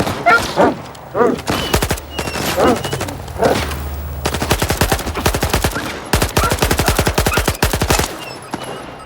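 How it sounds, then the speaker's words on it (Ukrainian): Bursts of automatic gunfire from a firefight in the video game S.T.A.L.K.E.R. 2, with rapid repeated shots in several volleys, loud and close, a brief pause midway, and a voice speaking briefly between them. "Ой, хлопці стріляються."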